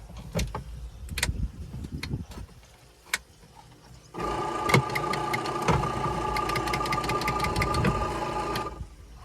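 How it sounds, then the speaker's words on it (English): A few knocks and clicks, then a motorized air pump for a farm sprayer's foam markers starts and runs with a steady, droning hum until the end. "There's a separate air pump for the foam markers."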